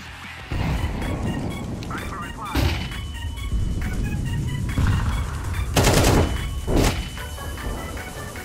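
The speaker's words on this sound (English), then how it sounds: "Burst fire, ready?" Rapid bursts of gunfire in Counter-Strike 2, loud and dense, with sharper blasts standing out around the middle and end over continuous game noise; a voice talks underneath.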